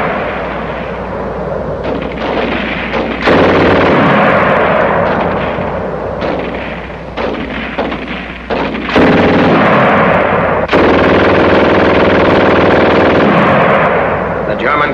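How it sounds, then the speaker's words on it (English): German automatic weapon fires in rapid, sustained bursts, loud and harsh, with brief gaps between volleys, from a 1943 military training film. "The German gun used to shoot fast."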